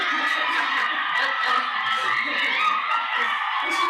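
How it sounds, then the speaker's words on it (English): A crowd of children and adults cheers, whoops and yells continuously in the background, a steady dense roar of excited voices with occasional shouts rising above the din. "everybody in the background cheering for them"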